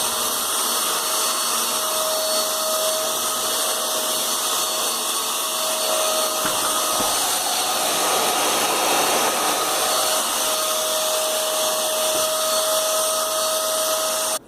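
A Eureka Forbes nano vacuum cleaner runs continuously over a sofa, a loud steady whining drone with a high tonal hum that holds throughout with slight shifts in pitch and no talking.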